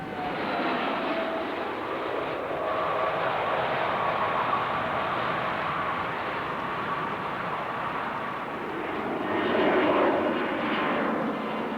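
Airbus A300-family airliner (A310) on an automatic landing in fog, its jet engines producing a steady broad roar throughout, swelling slightly near the end, with no talk.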